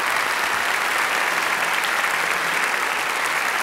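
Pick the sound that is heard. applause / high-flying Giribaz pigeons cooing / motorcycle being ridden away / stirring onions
applause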